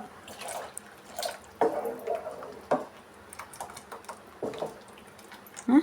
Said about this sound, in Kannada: ನೋಡಿ ಸ್ವಲ್ಪ ಗಟ್ಟಿಯಾಗಿದೆ ಇನ್ನು ಸ್ವಲ್ಪ ನೀರು ಸೇರಿಸ್ಕೊಳ್ಳೋಣ